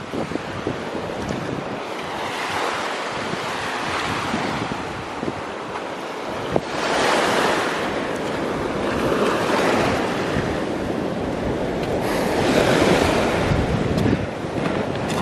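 Ocean waves wash onto the shore in Guam, a continuous surf roar with swelling breakers and wind buffeting the microphone.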